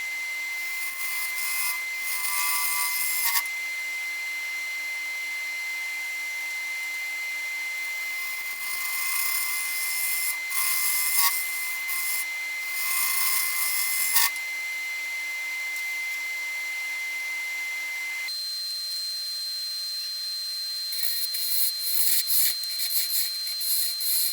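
A gouge cuts a gnarled log spinning on a woodturning lathe, giving a continuous loud scraping whine with shifting tones and brief pauses between cutting passes.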